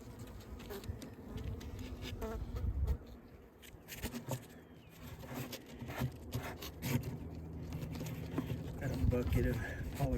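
Honey bees buzz around an open hive colony kept on honeycomb only, a close, continuous drone with handling knocks and rustles while a person works nearby; speech is faintly present underneath.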